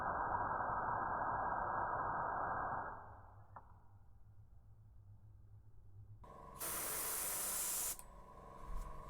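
A freshly cleaned airbrush spraying: a steady airy hiss for about three seconds cuts off into near-quiet, then a second, brighter and sharper burst of spray follows for just over a second.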